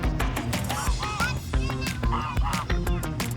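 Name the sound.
goose honking at a pond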